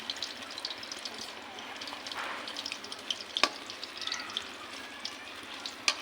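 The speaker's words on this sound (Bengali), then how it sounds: "তো বড়াগুলো আমরা মিডিয়াম ফ্লেমে ভেজে নেব" Banana fritters frying in oil over a medium flame: a soft, steady bubbling sizzle with small crackles and one sharp tap partway through, fairly quiet and close, with no talking.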